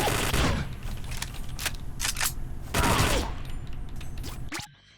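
Gunfire in the post-apocalyptic pub crawler video game Wasted: a series of loud sharp shots in close succession, crackling bursts over a steady game background, ending abruptly.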